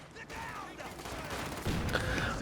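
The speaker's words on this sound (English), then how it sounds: "these Fallschirmjägers also firing at the T-3485 instead of the, attendant infantry" Fallschirmjäger infantry in Company of Heroes 2 fire a dense burst of rifle and machine-gun shots at a Soviet T-34/85 tank, a steady rattling volley with a louder crack near the end.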